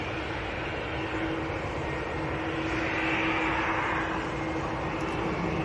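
Aircraft taxiing at Manchester Airport, heard as a steady broadband jet roar with a faint whine. It swells slightly midway and carries on continuously at moderate distance with no talking.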